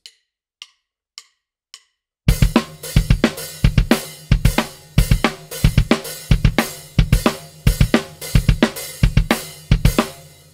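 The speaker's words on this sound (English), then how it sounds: "the kick and snare are playing a pattern in" Drum kit with kick and snare in a 5/16 pattern under quarter-note hi-hat: four sparse clicks at first, then a loud, close groove of punchy, uneven hit groupings, with no voices.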